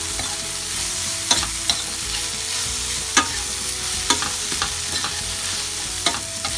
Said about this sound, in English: we are going to add the groundnut powder, give it a mix